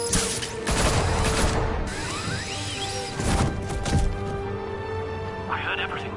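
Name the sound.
gunfire in a Batman video game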